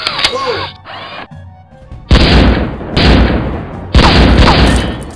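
A homemade sawed-off shotgun prop fires three loud, close booming blasts in a staged action short film, each with a sharp onset and a lingering roar, following a brief stretch of quieter sounds.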